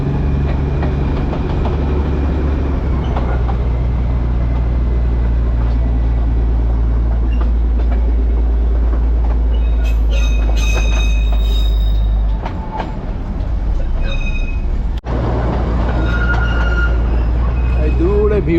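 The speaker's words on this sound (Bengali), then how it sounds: "ট্রেন আবার পেছন দিকে চললো" Darjeeling toy train on the Gayabari jungle ride, reversing uphill on narrow-gauge rails, with a steady low rumble and clatter, wheel squeals and metallic hiss rising in the second half, and people talking faintly throughout.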